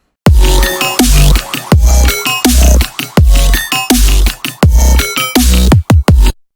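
The first drop of a dubstep track plays loud and dense, with heavy bass hits and choppy synth stabs cut into a stuttering rhythm and sharp breaks near the end.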